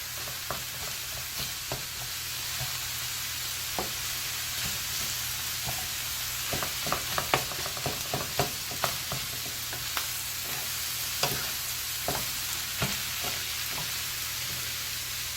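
Cooked rice stir-fried in a hot pan for Chinese egg fried rice, a steady sizzle under repeated sharp scraping and tapping as it is broken up, clustering busier in the middle, with no talk.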